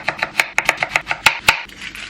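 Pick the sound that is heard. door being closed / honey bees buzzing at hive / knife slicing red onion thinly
knife slicing red onion thinly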